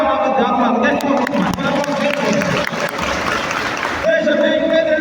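Church congregation applauding at a charismatic evening service: a dense, continuous clapping from a crowd, loud and close, with voices mixed in and the clapping thinning near the end.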